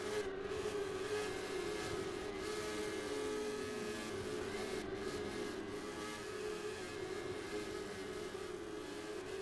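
Midget race car engines drone at Arcadia Speedway with a continuous, fairly distant roar that holds steady throughout without pausing or fading.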